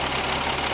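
A running engine idles steadily and evenly just after being started, a close, continuous broadband rumble with no voices over it.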